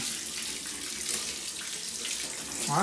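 Lukewarm tap water runs in a steady, loud, close stream from a faucet while an Atari STE circuit board is washed under it.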